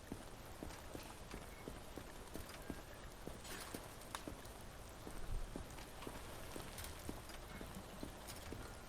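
Rain pours in a zombie apocalypse game, a constant dense hiss over a steady series of rhythmic thuds, with a brief louder rumble partway through.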